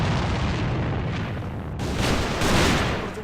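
Sniper rifle fire during an esports match of the shooter game Alliance of Valiant Arms: heavy, booming shots and explosions rumble continuously, loud and dense throughout.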